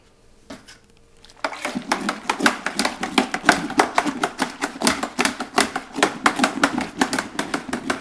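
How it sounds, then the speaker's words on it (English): A spoon stirs saved wheat beer yeast into homebrew wort in a metal pot, giving quick steady repeated scraping clinks that begin after a quiet second and keep going. "And give it a good stir."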